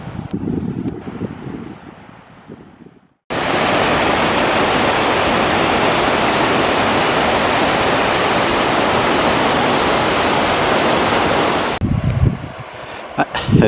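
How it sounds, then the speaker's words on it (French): A powerful mountain waterfall roars as a dense, continuous rush of water for about eight seconds on a high Pyrenees hiking trail near lakes, framed by quieter wind and footsteps before and after. "il y a des méga cascades"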